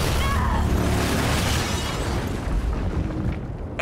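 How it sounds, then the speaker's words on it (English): A giant explosion in the video game Until Dawn rumbles and roars loudly and continuously, with a dense, sustained blast of noise that fades slightly toward the end. "All it took was a giant explosion"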